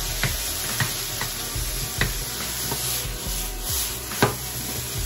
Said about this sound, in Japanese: ご飯をほぐしながら、もう冷たいご飯のままそのままやってます